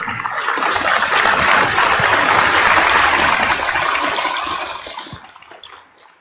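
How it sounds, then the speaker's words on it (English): A large audience claps at the Think Tank 2022 Rally of Hope event: dense, steady applause swells for several seconds, then thins and fades away near the end. "Let's give a warm round of applause."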